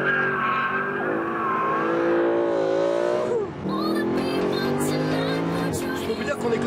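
Sports car on a race circuit in sport mode with manual gearbox and traction control off, engine revving loudly through rising pitches with a brief dip at a gear change, tire squeal and someone talking over it.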